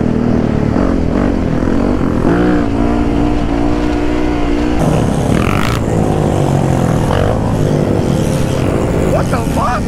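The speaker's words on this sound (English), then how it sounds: "Just gonna crack this wheelie." A motorcycle engine revs hard during a wheelie at a street rideout, loud rising and falling revs close by, mixed with other engine noise and people talking.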